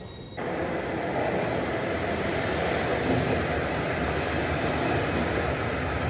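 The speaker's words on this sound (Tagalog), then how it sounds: "Dito na yung ating train." A train rolls into a station in Switzerland with a steady, loud rumble of wheels and cars that sets in abruptly and continues throughout, with no talk.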